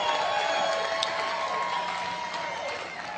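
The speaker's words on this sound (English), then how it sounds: "T. Harv Eker, let's give him a round of applause." A seminar audience applauds and cheers a speaker, a broad, lively wash of clapping under some raised voices and whoops, slowly thinning over a few seconds.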